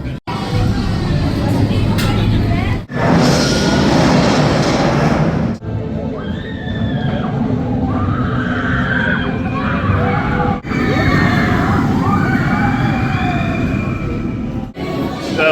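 Intamin launched roller coaster Taron sending a train off, a loud rushing roar and whoosh with crowd screams and chatter, broken by short pauses between surging passes.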